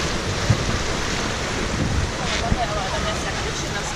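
Rio Grande rapid river raft ride at Fort Fun Abenteuerland, rushing water and wave splashes with wind buffeting the microphone, a few sharp knocks, and faint voices in the background.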